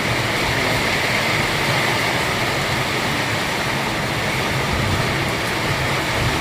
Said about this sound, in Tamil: ரொம்ப மழை பெய்யுது மழையை ரசிப்போம்